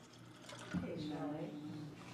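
Tap water pours in a steady, moderately loud splash lasting a couple of seconds, with a person talking over it.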